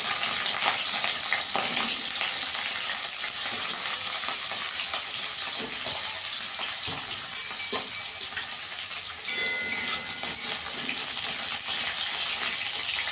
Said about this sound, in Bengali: পটলটাকে একটু লাল করে ভেজে নেবো।